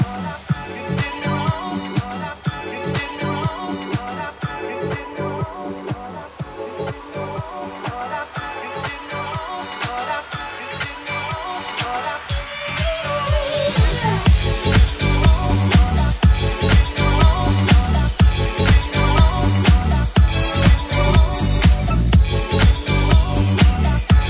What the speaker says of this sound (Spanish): Es una canción de música disco muy famosa a finales de los 70s